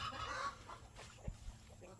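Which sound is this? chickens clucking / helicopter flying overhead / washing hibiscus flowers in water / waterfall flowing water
chickens clucking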